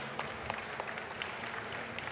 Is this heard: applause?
yes